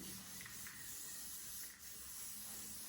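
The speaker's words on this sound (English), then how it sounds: "Now to finish is the gloss spray." A faint, continuous hiss of an aerosol gloss hair spray, held steadily for a few seconds with slight pauses in intensity.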